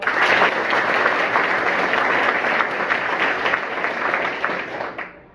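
A school audience claps together in a loud, sustained burst of applause that holds steady for several seconds before tapering off at the end.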